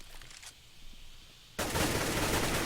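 Automatic gunfire in the Counter-Strike match, a faint burst at the start and then a loud, dense stream of rapid shots that runs without pause to the end.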